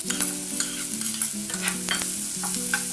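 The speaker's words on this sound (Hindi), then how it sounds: "Now give it a good mix." Carrots being stirred into Maggi noodles in a pan, a close scraping and stirring with light frying sizzle, steady rhythmic strokes with a sustained tonal hum underneath.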